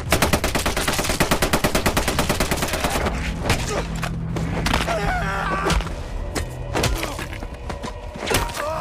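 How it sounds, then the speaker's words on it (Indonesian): Rapid machine-gun fire from a war-struggle film scene, loud and close with fast regular bursts at the start, then scattered shots and thuds over music and a sustained tone. "Sukidi yang mendengar letupan senjata dari arah belakang, dia pun langsung berputar balik."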